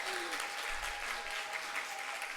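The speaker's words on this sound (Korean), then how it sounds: "박수." Applause fills a church family revival gathering, steady and continuous throughout, with a faint tone lingering underneath.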